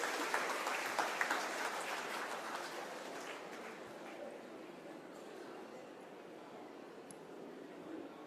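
An audience at an engineering college graduation ceremony applauds to welcome the chief guest, a broad wash of clapping that starts strongest and slowly fades, heard at a distance in a large hall.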